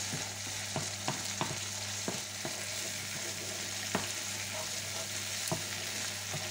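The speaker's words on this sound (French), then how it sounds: "Voilà, je fais bien revenir." Round zucchini browning in a pan, a low, constant sizzle with a hum underneath and scattered light taps of a utensil stirring, no one speaking.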